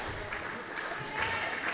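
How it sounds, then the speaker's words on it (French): A handball crowd applauds in a steady, dense wash of clapping that fills the hall without pause. "Applaudi par le public et ses coéquipières."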